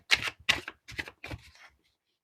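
Tarot cards being handled and drawn from a deck: four quick, crisp papery flicks and shuffles in close succession, then quiet.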